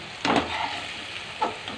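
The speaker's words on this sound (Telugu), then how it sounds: "ఈ ఉల్లిపాయ టమాటా ముక్కల్ని కొంచెం అంతా మగ్గే వరకు వేయించండి" Onion and tomato pieces frying in a pan: a soft, steady sizzle with a couple of brief stirring scrapes, close and moderately quiet, no voices.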